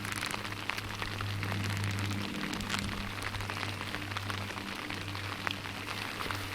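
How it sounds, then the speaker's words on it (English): Rain patters steadily at a wilderness campsite in the Weminuche Wilderness, Colorado, a soft constant hiss with scattered close drops and a low hum underneath, with no talking. "Cause it's raining right now."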